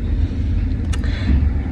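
A car being driven, steady low road rumble and engine drone filling the cabin throughout, with a brief higher whoosh passing midway and no talk.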